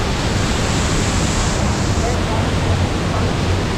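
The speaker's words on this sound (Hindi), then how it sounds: "ये वाटरफॉल है।" Waterfall at Saklikent National Park in Turkey, a loud, close, unbroken roar of rushing water that fills the whole moment without pause.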